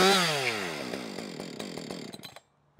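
A chainsaw is pull-started with the compression release pressed: the engine catches and runs, its buzzing pitch sweeping and sputtering before cutting out abruptly, then a brief restart at the very end.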